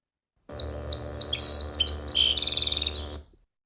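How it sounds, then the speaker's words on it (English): A male song sparrow delivers a clear song of several sharp introductory notes followed by a fast buzzy trill, close and loud against a quiet background. "This is one male song sparrow."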